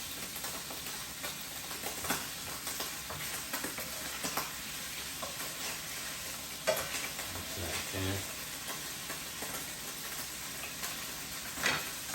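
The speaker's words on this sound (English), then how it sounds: "I'm just going to stir this up just like this." Canned sardines fry in a pan under a low, steady sizzle, with occasional soft scraping and knocks as they are stirred, no talking.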